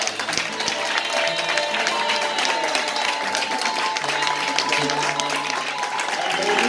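Church congregation at a Sunday worship service applauding loudly and steadily throughout, a dense wall of clapping with crowd noise mixed in and no pauses.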